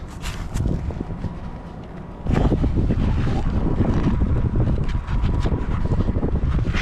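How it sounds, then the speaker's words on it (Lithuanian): Strong gusting wind high up on a chimney buffets the microphone with a loud, continuous low roar that surges louder partway through, with no talking. "Kaip labai vėjuota čia aukščiau"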